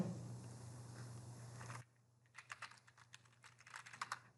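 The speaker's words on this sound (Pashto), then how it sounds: "پاسورډ یې لیکم ورته" Keys clatter on a computer keyboard as a password is typed, a quick irregular run of soft close clicks that begins after a cut from steadier background noise.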